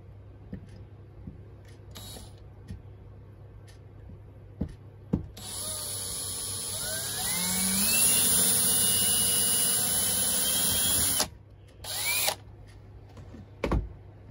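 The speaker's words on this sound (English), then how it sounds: "I'm just going to drill into this flat end." A power drill whirs steadily into the flat end of a spent brass bullet casing for several seconds, its pitch rising as it bites, with a few clicks and brief bursts before and after.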